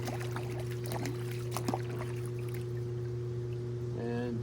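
A hot tub water test kit is rinsed out with water, producing a light trickling splash over a steady mechanical hum, and a voice briefly speaks.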